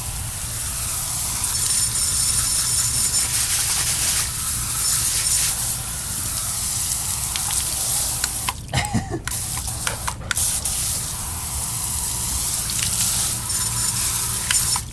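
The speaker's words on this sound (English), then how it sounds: "we're going to rinse down the wheel here and the tire" Water sprays onto a Jeep TJ wheel and tire in a loud, continuous hiss. It pauses briefly partway through, then the rinsing resumes.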